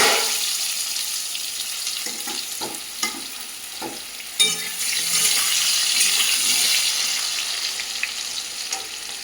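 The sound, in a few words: potatoes frying in oil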